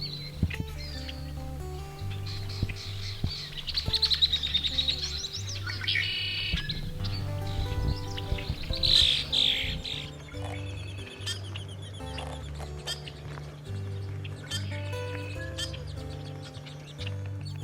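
Several red-winged blackbirds call and trill nearby in bursts over a steady low hum, with no talking.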